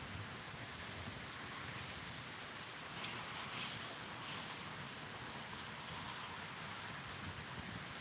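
Rain from a severe thunderstorm in Pittsburg, Kansas falls steadily as a dense, even hiss, with a faint rumble rising briefly partway through.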